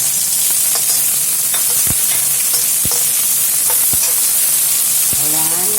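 Spring onion sizzles steadily in a hot pan while a utensil scrapes and stirs in a few sharp strokes, the loud frying hiss constant throughout with no talking over it.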